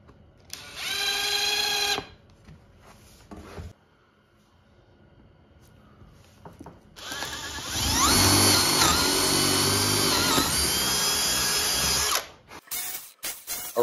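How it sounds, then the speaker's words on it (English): A power drill drives screws into plywood on a jig: two loud whirring bursts, a short one and then a longer one that strains and rises as the screw seats, with quiet gaps and clunks between. "Just adding a couple of screws to the plywood so I can hook them together"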